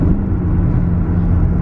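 A BMW E39 M5 with freshly replaced ignition coils drives while shifting down from fourth to third: a loud, close, steady engine rumble and road drone that holds evenly throughout, with no speech.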